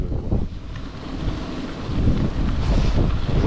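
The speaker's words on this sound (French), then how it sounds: "Aujourd'hui il y a un peu de tempête, un peu de vent" Stormy gusts of wind buffet the microphone in a steady, roaring broadband rush that swells louder toward the end, with surf audible beneath it at a seaside event at Le Touquet.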